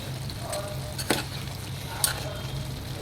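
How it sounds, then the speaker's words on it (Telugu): Chicken pieces for chicken 65 fry in a pan and get stirred, a soft steady sizzle broken by a couple of sharp utensil scrapes, close and without talk. "ఇప్పుడు ఈ చికెన్ పీసెస్ మొత్తం దీంట్లో వేసేసుకోవాలి. వేసేసుకొని బాగా కలుపుకోవాలి కిందికి మీదికి."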